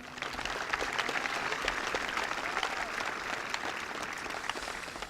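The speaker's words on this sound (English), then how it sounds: "Please give them all a round of applause." Sustained applause from a large audience at a 2018 Waynesville High School graduation ceremony, a dense steady wash of clapping lasting several seconds with no talk over it.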